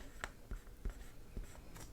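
A permanent marker drawing numbers, with short scratchy strokes in a quick uneven rhythm, quiet and close, no voices.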